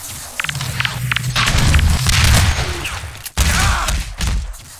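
Rocket launcher blasts in a Half-Life 2 Deathmatch match, heavy booming explosions and rumble with sharp gunfire pops, loud and close, one hard impact standing out near the end.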